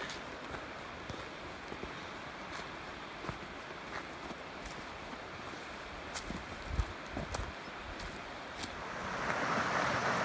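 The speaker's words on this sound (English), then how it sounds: "Well, just sitting here at Big Cedar Creek" Big Cedar Creek on the Ouachita Trail flows with a steady, broad rush of water, faint and constant, with occasional small knocks and a gust of wind toward the end.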